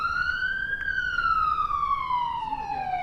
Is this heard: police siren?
yes